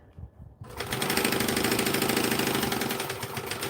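A sewing machine sews a 1/8 inch seam while making a Vixen garment, starting after a short quiet moment and then running in a steady, close, rapid mechanical whir until the end.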